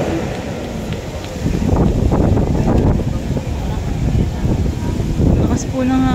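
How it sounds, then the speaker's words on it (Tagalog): Strong wind gusting through trees outdoors, a steady broadband roar that swells and stays loud throughout, with a voice talking over it. "Lakas po ng hangin, oh. Sumasayaw talaga yung mga puno, oh."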